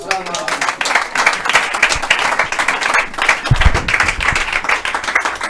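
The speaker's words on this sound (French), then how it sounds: "Acclamez très fort pour l'Éternel" Loud, sustained applause from a church congregation clapping for the Lord, a dense crowd of hands filling the space without a break.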